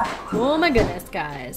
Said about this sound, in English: I'm so sorry about the dogs.